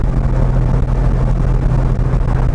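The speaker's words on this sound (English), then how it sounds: "I'll get into the throttle for you so you can hear those Webers sing" An early hot-rod Porsche 911 engine breathing through Italian Weber 40 carburetors roars loudly and steadily under throttle, a dense, continuous low rumble heard from close by, with no talking.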